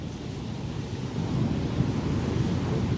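Ocean surf rolls in a continuous low roar, with wind buffeting the microphone and the wash swelling slightly louder partway through; no voices.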